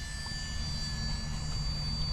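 An Esky 150EC scale RC helicopter flies in calm, windless air, giving off a steady, continuous high-pitched motor and rotor whine that holds level throughout.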